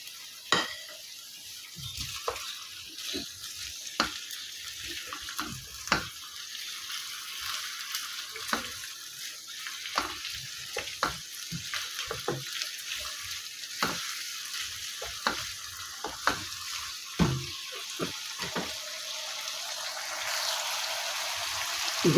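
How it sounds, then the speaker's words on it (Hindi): Meat for chicken karahi frying in oil in a pan, a steady soft sizzle with scattered pops and stirring scrapes throughout, close and alone with no talk. "गोश्त हमारा काफ़ी अच्छी तरह से ऑयल में भून चुका है।"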